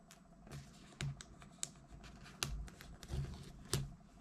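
Paper pull tabs being torn from the back of an iPhone 13 Pro Sierra Blue box, heard as a quiet, close series of short ripping and crinkling bursts with small clicks in between.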